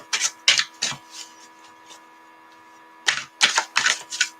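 Two bursts of crisp riffling and snapping, a few quick strokes, then a pause of about two seconds before another run of riffles, close and fairly loud.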